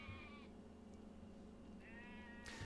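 Cartoonish sheep bleats from a video game, two short 'baa' calls separated by a pause, heard over a steady low game hum.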